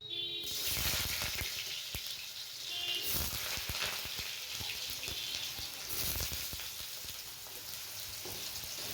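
Potato pieces frying in oil in a pan for aloo posto, a steady close sizzle that runs without a break, with occasional stirring clatter and no talking.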